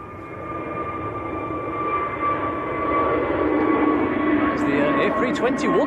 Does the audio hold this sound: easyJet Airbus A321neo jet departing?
yes